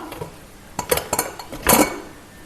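A pressure cooker lid comes off after the steam release on a pot of Kayalpatnam mutton ahanikari stew, with a few sharp metallic clanks and clatters of pot and lid, close and moderately loud, with no talking.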